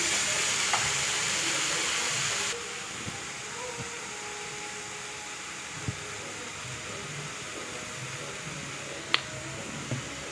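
Broccoli roti mixture seasoned with salt, chilli powder and pepper powder is stirred in a bowl, giving a soft, steady scraping and mixing texture with a few sharper clicks, close and moderately quiet, with no voices.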